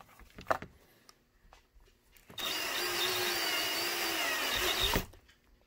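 A power drill whirs steadily for a few seconds, loud and close, drilling holes in a holster, after some brief handling clicks and light knocks before it starts.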